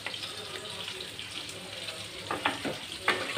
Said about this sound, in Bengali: ঝুড়ি মাছটা আমি নেড়ে চেড়ে আরও কিছুক্ষণ রান্না করে নিব,